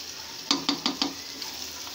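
Chicken and potato pieces cooking in a masala gravy in a pan, with four quick stirring scrapes in a row over a soft, steady sizzle, heard alone at moderate loudness.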